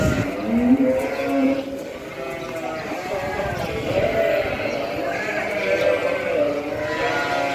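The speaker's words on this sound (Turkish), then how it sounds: "Bunlar kuzularımız." Many sheep and lambs bleat and baa together in a barn, overlapping calls rising and falling, while someone talks over them.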